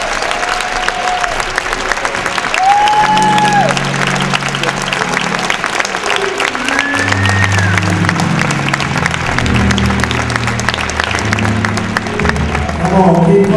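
Crowd applause and clapping at a Martin Luther King Day celebration, sustained dense clapping throughout with a voice speaking over it and tonal sounds layered in.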